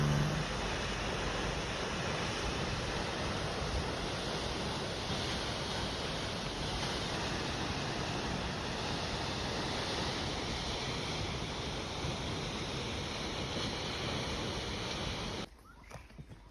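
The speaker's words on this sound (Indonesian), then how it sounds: "ini salah satu ikon jalur Torean, air terjun Penibungan" Penibungan waterfall on the Torean trail of Mount Rinjani, a steady, dense roar of falling water that holds constant for about fifteen seconds and then cuts off abruptly.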